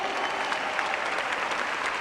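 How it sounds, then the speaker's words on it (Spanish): Steady applause from a church congregation fills the space, a dense continuous patter of many hands clapping at moderate loudness with no talk over it. "Fuerte el aplauso."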